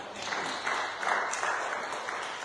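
A church congregation claps in praise during a French-language worship service, a dense steady wash of many hands with rising swells, moderately loud and close, with no clear speech over it.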